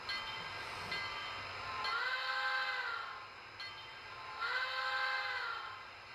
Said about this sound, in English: The train that you will see coming by is a narrow gauge train.